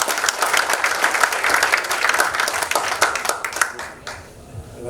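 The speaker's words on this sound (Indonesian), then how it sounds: "Tepuk tangan buat Tuhan Yesus." An audience at an economic outlook talk in Indonesia breaks into lively applause, dense and close, that thins out and tapers off near the end.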